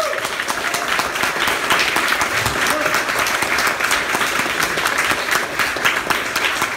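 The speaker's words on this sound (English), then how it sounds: "Can we get a round of applause for both the candidates again?" Audience applause for two city commissioner runoff candidates in Portland, dense and steady clapping from a crowd sustained at full volume for about seven seconds.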